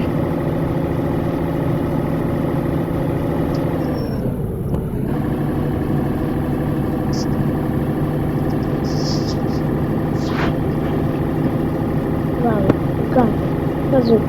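A truck engine in Truck Simulator Ultimate drones steadily at idle with a constant low hum and faint rising tonal sweeps, no sharp rev bursts, with a few small clicks over it.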